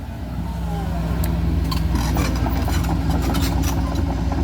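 An SK140-8 excavator engine drones steadily at low pitch while digging trenches in a palm plantation, a continuous mechanical rumble with a voice faintly present underneath.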